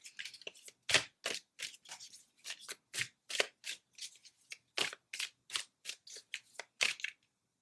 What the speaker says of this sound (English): I feel like I'm having a hard time like shuffling this deck right now.